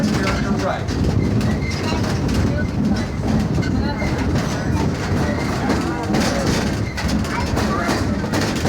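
Rumbling, rattling ride aboard a tourist excursion train heading toward exhibits, steady loud wheel and car noise throughout with faint clicks and distant voices mixed in.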